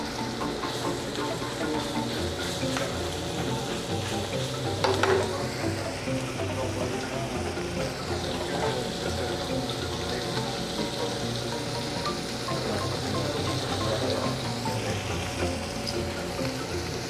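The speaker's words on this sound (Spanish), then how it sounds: "pasemos el steak por el sartén para que coja todos estos juguitos que va soltando" A steak fries in a pan, a loud continuous sizzle and crackle of hot fat and juices that holds steady throughout, with occasional brief stirring or turning noises.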